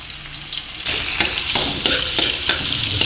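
Garlic, onion and ginger hit hot reused frying oil with a sudden loud sizzle that stays strong and steady, with brief stirring scrapes, close up and with no talk.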